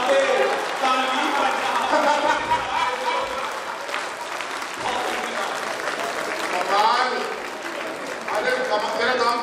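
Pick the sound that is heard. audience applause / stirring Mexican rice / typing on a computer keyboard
audience applause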